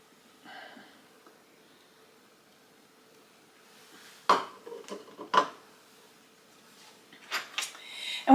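Mayonnaise stuffing for mushrooms gets mixed in a bowl with a fork, heard as a few separate scrapes and clinks against the bowl, sharp and close, with quiet gaps between them.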